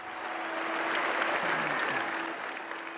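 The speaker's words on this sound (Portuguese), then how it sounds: "provocaram aplausos e lágrimas na Praça São Pedro" Crowd applause in St. Peter's Square, a broad, steady wash of clapping heard at a distance, fairly faint and sustained throughout, with a faint tone running beneath it.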